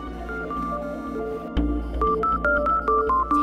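Phone dialing tones, a series of short beeps at shifting pitches, at first softer over a low hum and then louder and more regular after a brief break.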